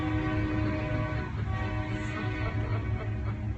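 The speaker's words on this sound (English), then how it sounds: "Is that the 12 o'clock train?" A train passes nearby, its steady low rumble and tonal horn-like drone filling the whole stretch at a constant loud level with no talk over it.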